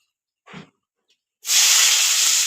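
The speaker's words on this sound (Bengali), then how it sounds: "পেঁয়াজ রসুনগুলোকে এখন ভালো করে ভেজে নেব লাল লাল করে" Onion and garlic dropped into hot oil with bay leaf in a home kitchen for a chicken dish, hitting with a loud, steady sizzling hiss close up after a brief soft clatter.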